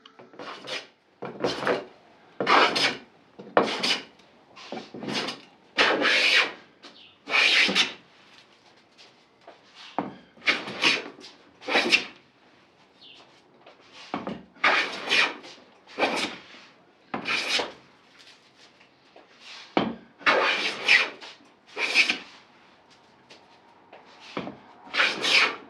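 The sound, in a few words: hand tool flattening a high spot on a wooden plank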